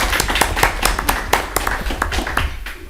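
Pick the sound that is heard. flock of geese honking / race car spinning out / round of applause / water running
round of applause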